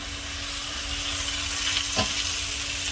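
Eggplant, sweet potato and potato frying in a pan, a loud, steady hiss and sizzle heard close, with one brief clunk of a utensil near the end.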